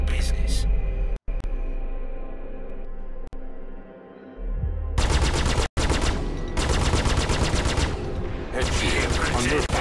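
Video game gunfire in a space combat mission comes in bursts, with rapid rattling volleys that start and stop, under and between a synthetic voice giving ship status callouts.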